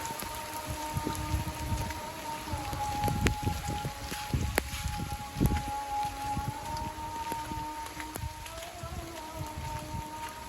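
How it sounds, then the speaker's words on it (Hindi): Light rain falls steadily outdoors, a soft continuous patter with scattered louder drops near the microphone. No one speaks. "हल्की हल्की बारिश बरस रही है"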